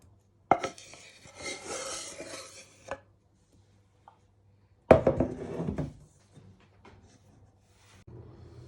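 A fork stirs beaten eggs together with chopped vegetables, chorizo and potatoes in a bowl for a Spanish tortilla, giving two bursts of scraping, clinking strokes against the bowl with quiet pauses between, close up and with no talking.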